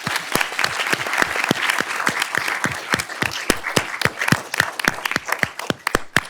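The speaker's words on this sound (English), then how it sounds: "we can give you a round of applause" Applause from a conference audience as staff members stand to be recognized, a dense wash of many hands clapping steadily for about six seconds, fairly close and loud with sharp individual claps standing out, no talking over it.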